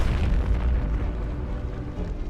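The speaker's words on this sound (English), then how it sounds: "70 tons of gunpowder went up in a devastating explosion" A 70-ton gunpowder magazine explosion rolls out as a deep, sustained rumbling boom with crackling debris, dense and loud throughout.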